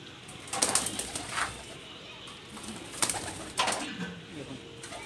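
Pigeons, including golden-eyed Tikki bloodline birds, coo softly in a loft, with a few low burbling calls and a flutter standing out over background murmur and nearby voices.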